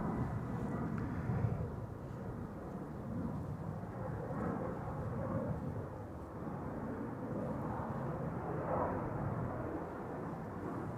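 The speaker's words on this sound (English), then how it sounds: "Cathay Pacific A350 1000 on the move" A Cathay Pacific Airbus A350-1000 taxiing at Amsterdam Schiphol, a distant, steady jet-engine rumble that swells and fades slightly over several seconds with no talk.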